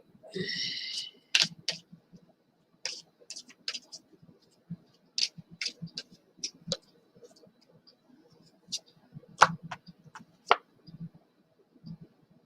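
Tarot cards being shuffled during a post-election reading, giving a quiet run of irregular soft clicks and riffling taps, close by, spread across the stretch with occasional faint murmur underneath.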